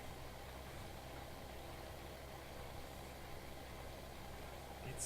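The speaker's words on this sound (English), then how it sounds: "I wouldn't say this tractor was struggling." A tractor engine runs steadily while planting potatoes on a slippery field in Farming Simulator, a continuous mid-low drone with an even rumble and no voices over it.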